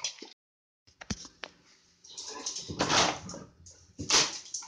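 Dogs whimper at a house door, giving short high whines and yips in bursts, close by, with a brief quiet gap near the start and no speech.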